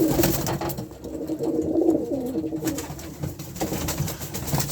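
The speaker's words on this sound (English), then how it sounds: "Upstairs on the middle shelf we've got this year young birds." Young cock pigeons in a loft coo in soft, throaty, rolling calls, several birds overlapping at close range amid rustling and shuffling.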